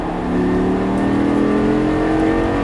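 A Lamborghini Gallardo LP 560 accelerates on a track in a loud, steady engine roar that climbs in pitch as it picks up speed, close and continuous with no talk.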